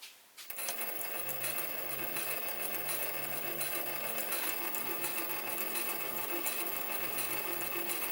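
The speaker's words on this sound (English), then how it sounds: "And if we switch the lathe on," A metal lathe spins up and runs while machining crankshaft bearings for a Stuart 10V model steam engine, a steady, even mechanical whir with faint rattling that holds unbroken after a brief start.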